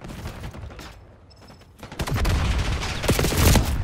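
Black Ops 6 multiplayer firefight, a quieter opening followed by loud rapid bursts of automatic gunfire and blasts that build toward the end.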